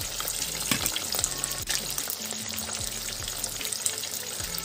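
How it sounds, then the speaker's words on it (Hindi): Fish sizzling in hot oil in a pan while a Gorkha-style fish curry is being prepared, a steady close crackle and hiss with some low bubbling underneath. "तो दूसरे साइड फ्राई हो जाए आराम से"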